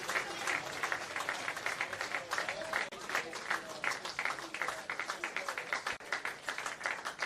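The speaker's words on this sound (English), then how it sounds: "As the crowd claps him off." A football crowd at a men's NPL NSW match between St George FC and Sutherland Sharks FC claps a departing player off the pitch, with sustained, moderately distant applause and faint murmuring.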